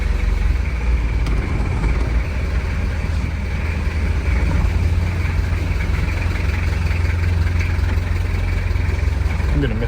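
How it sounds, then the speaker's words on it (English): A Ford B250 van engine idles steadily, a constant low rumble close by that holds unchanged for about ten seconds with no break. "let's let her idle"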